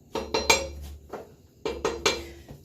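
A spoon stirs vegetable soup with corn in a pot. Three quick clinks and scrapes of metal against the pot come close together, then a single clink, then another burst of three. The sounds are close and clear, with no talk.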